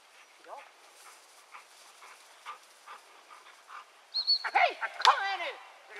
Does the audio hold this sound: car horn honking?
no